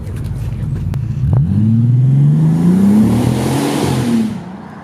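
Bentley Continental GT with a 6-litre W12 engine revs up from a low rumble into a rising, sustained engine note, holds briefly, then cuts off sharply, close and loud with no talking.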